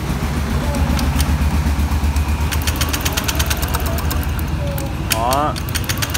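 A Honda SH125 scooter with a smart-key ignition and a weak starter runs with a steady low engine rumble at close range, a faint rhythmic knock underneath and brief higher whirring near the end.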